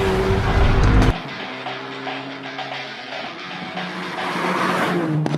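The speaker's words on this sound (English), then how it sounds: "But now I really want to have a look how quick you really can drive that car." A Hyundai i30 Fastback N Performance driven fast: a loud engine roar cuts off abruptly after a second, then a quieter interior drone with steady engine tones builds again toward the end.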